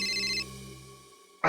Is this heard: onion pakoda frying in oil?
no